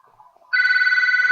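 A phone suddenly starts ringing with a bright, warbling electronic tone, loud and close, cutting in after a moment of near silence and continuing steadily.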